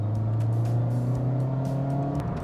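A 2022 Mazda 2 in sport mode accelerates with a steady, loud engine drone that rises slightly in pitch, heard from inside the car with no talking.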